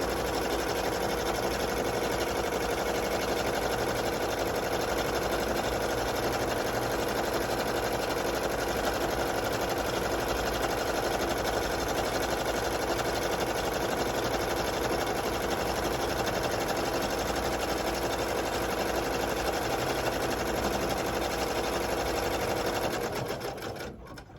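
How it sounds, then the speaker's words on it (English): Embroidery machine stitching the first placement stitches for an applique on a long sleeve shirt, a steady rapid mechanical whir and clatter running continuously and loud for the whole stretch, stopping only at the very end. "I'm just going to press start and we're going to start stitching this out."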